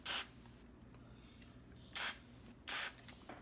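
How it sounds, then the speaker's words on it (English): DeoxIT contact cleaner is sprayed into a potentiometer on a Hickok 6000 tube tester in three short, sharp hissing bursts, close and separated by quiet pauses. "I want to get some deoxit in there. In both of them, spray it,"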